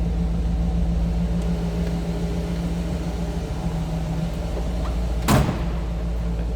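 The driver's door of a 1966 Ford Mustang convertible with a 289 engine shuts with a single solid thump near the end, over a steady low engine idle rumble.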